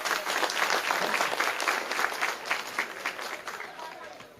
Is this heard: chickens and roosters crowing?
no